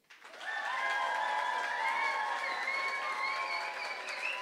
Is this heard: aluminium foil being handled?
no